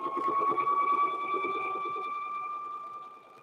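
Sewing machine stitching the side seams and pockets of a quilted handbag, a close steady whirring hum with a rapid mechanical stitch rhythm that softens toward the end.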